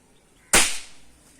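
One sharp toy-gun crack, fired to scare off crows, breaks a quiet background, then fades quickly.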